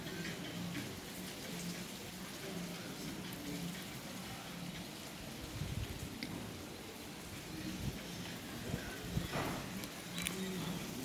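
Rain falls steadily at Sajek Valley, a hilltop tourist spot, under dark monsoon clouds, giving a continuous broadband hiss with scattered drips and taps throughout.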